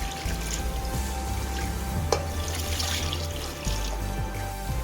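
Two litres of water pour steadily into a pot of beef bones with salt for a bone curry, a continuous close splashing stream with no talk over it.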